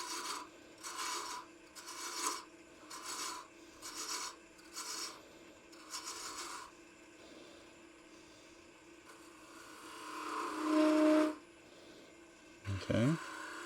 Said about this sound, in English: Let's just use a spindle gouge for this. So we'll just come in, we're going to waste away some wood here.